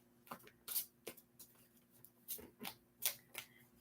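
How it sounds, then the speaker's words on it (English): Tarot cards being shuffled by hand, giving a series of soft riffling bursts at an irregular rhythm, close and fairly quiet, with a faint steady hum underneath and no talking. "I'm just shuffling away, trying to get these cards in the right order."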